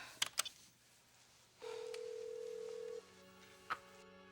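A speakerphone dials out, with a few quick keypad beeps followed by a single sustained tone lasting over a second and one more short beep, faint and clean against a quiet room hum.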